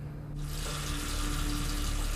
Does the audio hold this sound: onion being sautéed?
no